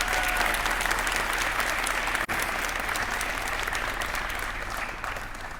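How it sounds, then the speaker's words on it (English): Sustained applause from an audience greeting scholarship students at a Nevada education act event, steady dense clapping throughout with no talk over it. "Round of applause for that."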